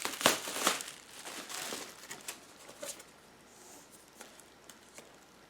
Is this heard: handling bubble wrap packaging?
yes